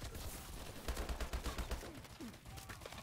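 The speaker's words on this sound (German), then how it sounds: "Schüsse, ich hab Schüsse gehört." Faint gunfire in Call of Duty: Advanced Warfare, a rapid burst of distant shots with a steady rhythm in the middle, low in volume under game ambience.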